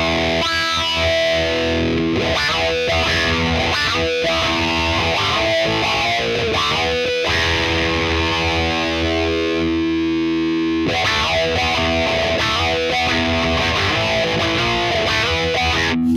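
Heavily distorted electric guitar through the STL Tonality amp plugin, loud chugging riffs with ringing chords, a brief break near eleven seconds before the riffing resumes, no talk.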